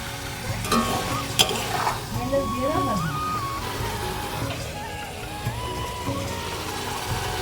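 Gram flour batter with slit green chilies sautéing in oil in a pan gives a steady, close sizzle with stirring scrapes and a few sharp clicks throughout.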